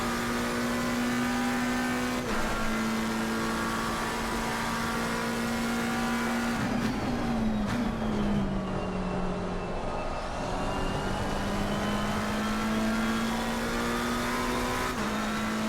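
Race car engine in Assetto Corsa Competizione at Monza, an XCL online race, droning steadily at high revs with a rising and falling pitch as it shifts gears and exits Parabolica, loud and continuous with no talk.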